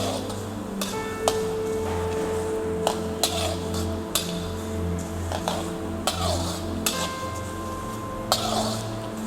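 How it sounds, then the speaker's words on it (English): Vermicelli (sevai) sautés in desi ghee in a pan over a slow flame: a utensil scrapes and clinks against the metal every second or so over a steady background hum, with no talking. "Now we are adding vermicelli or sevai. We will saute it on slow flame till it turns golden brown color."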